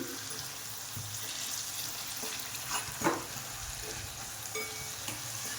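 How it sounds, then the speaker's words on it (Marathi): Garlic cloves, skins still on, fry in a pan with a steady soft sizzle and a few clinks and scrapes of stirring, no voices. "चांगला फ्राय करून घ्यायचा आहे लसूण"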